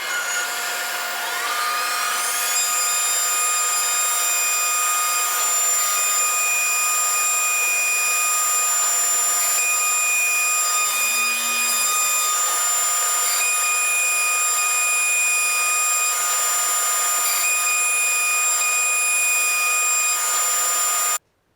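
A CNC router spindle spins up to a high, steady whine while cutting on a homemade vacuum table, loud and continuous with a bright harmonic drone and a slight shift midway before cutting off at the end.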